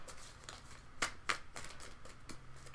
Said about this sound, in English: And I shuffle until something jumps out